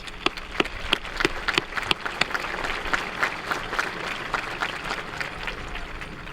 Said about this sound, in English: So why don't we give him a round of applause.